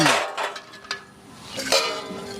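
Pots and metal utensils clatter and clink as they are handled for scrubbing, a few sharp knocks and scrapes close by with no talk.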